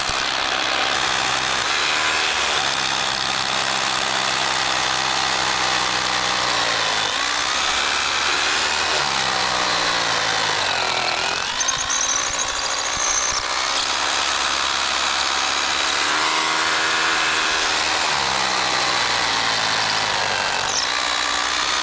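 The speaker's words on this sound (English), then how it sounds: "so I'm gonna drill it." A power drill whines steadily and continuously while drilling into a concrete slab, its pitch dipping now and then as it bites, loud and close.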